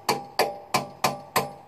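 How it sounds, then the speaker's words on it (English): Five evenly spaced sharp metallic knocks ring out as a hammer drives a chisel to pop the small lipped cover off a rear brake housing on an M939 truck, each strike loud and close with a short ringing decay. "Take your hammer, chisel,"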